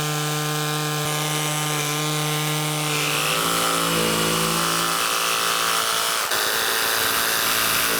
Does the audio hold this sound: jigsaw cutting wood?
yes